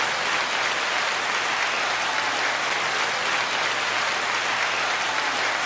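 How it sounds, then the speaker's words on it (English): Audience applause on a talk show broadcast, a steady wash of many hands clapping, loud and continuous with no pauses. "Nice, applause."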